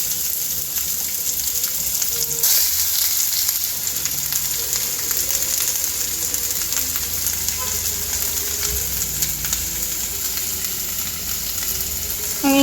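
Onion and garlic sizzle steadily in a hot pan for a cauliflower curry, a constant close frying hiss with faint bubbling, running unbroken and alone with no talk.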